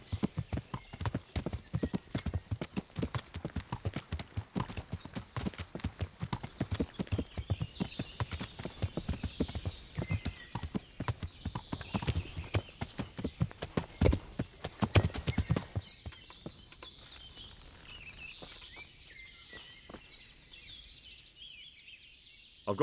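Horse hooves in the video game Kingdom Come: Deliverance, a rapid, dense clatter of galloping steps that stays loud, then thins and fades toward the end, with a whinny mixed in.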